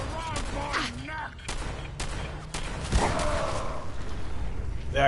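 A Suicider blows up in Fallout 4: a loud, close blast amid bursts of gunfire and swooshing impacts, with a rumbling tail that keeps the whole stretch dense and busy.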